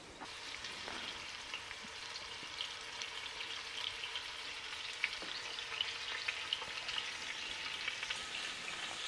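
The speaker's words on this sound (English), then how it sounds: "while you are searing your shanks" Large lamb shanks sear in a hot pan with a steady, bright sizzle and crackle and occasional sharper pops, continuous and close for the whole stretch with no talking.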